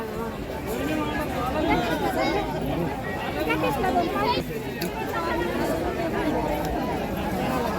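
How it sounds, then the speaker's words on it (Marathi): A packed Monday market in Kalamb town fills the air with a thick, steady murmur of overlapping chatter and movement, close and constant, with a nearby voice talking over the hubbub. "गर्दी बघितलं का किती आहे"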